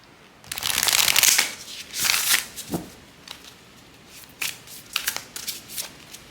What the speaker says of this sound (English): So let's pull some significator cards